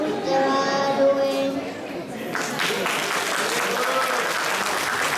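Applause from an audience at a Kannada Rajyotsava stage show breaks out right after a sung lullaby, a dense, steady clapping that fills the second half after the singing fades.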